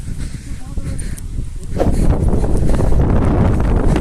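Outdoor wind blowing on a day out in nature, a steady broadband rush that strengthens partway through and continues loud against the microphone, with a person talking over it.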